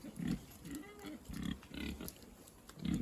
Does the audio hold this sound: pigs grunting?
yes